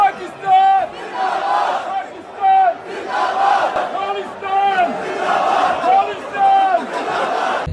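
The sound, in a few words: Sikh fan chanting Pakistan Zindabaad slogans in cricket stadium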